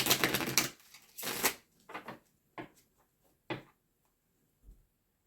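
Tarot cards shuffled by hand in a quiet room, two loud riffling bursts followed by a few softer taps and flicks, with no talking over them.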